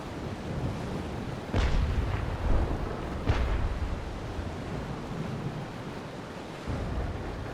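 Two booming ship cannon shots from a naval sailing battle in the Naval Action game sound a couple of seconds apart over steady wind and surf noise.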